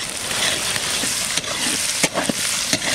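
Ginger and garlic paste hitting onions that are already frying in a pan for a village chicken curry, giving a loud, continuous sizzle with scraping stirs and clatters near the end.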